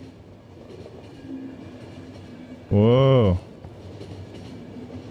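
A train in the video game The Final Station rumbles low as it starts to move, then a loud rising mechanical horn-like wail sounds for about a second over a quiet voice.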